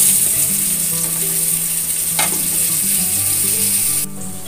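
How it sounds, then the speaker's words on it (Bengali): Pointed gourd with turmeric frying in a pan, a strong steady close sizzle with a brief scrape of stirring midway, dropping off sharply near the end. "এটাকে ভালো করে একটু ফ্রাই করতে হবে কিছুক্ষণের জন্য।"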